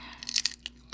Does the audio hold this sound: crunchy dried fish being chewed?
yes